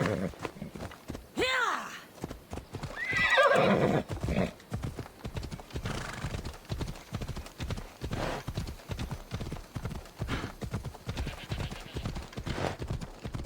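A horse galloping in the video game Assassin's Creed Odyssey, a rapid, rhythmic clip-clop of hooves close by, preceded by a loud neigh and a shouted command, then continuing steadily.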